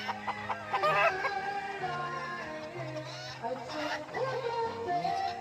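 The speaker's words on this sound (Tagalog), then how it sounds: "Grabing manok, ang dami-dami." Many chickens cluck and roosters crow at a poultry farm in Tanay, Rizal, a dense overlapping chorus of calls with a person talking over it.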